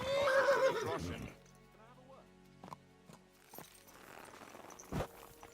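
Video game horse in Kingdom Come: Deliverance 2 gives a loud, shrill whinny up close, followed by quieter clopping hooves and soft rustling.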